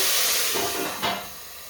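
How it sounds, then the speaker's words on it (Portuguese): A loud burst of steamy hissing as a little water hits a hot pan of frying chicken, sputtering and surging briefly before settling into a steady sizzle. "eu vou colocar um pouquinho de água e tampar a panela"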